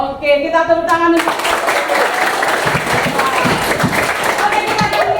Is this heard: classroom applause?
yes